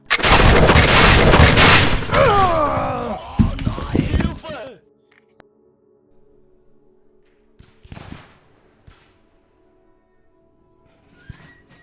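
Musket and artillery fire in a battle: dense, loud booming volleys and crackling shots for the first few seconds, then sudden near-silence with one more distant report and faint stray sounds.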